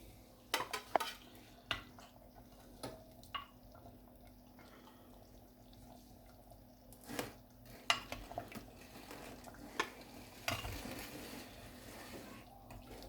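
Cooked masoor and moong dal served out of a pot onto a plate, soft scattered ladle clinks and wet stirring sounds, quiet and close, with a few sharper taps against the vessel and no talking.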